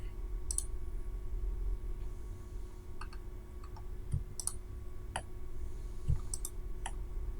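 A computer mouse clicks in a series of crisp, light clicks at irregular intervals, alone against a faint steady room hiss.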